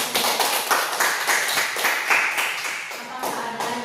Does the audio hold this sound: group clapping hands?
yes